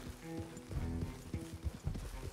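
Horse hooves from Red Dead Redemption 2: a quick run of soft, faint thudding clip-clop steps with an uneven gait, set under low tonal ambience.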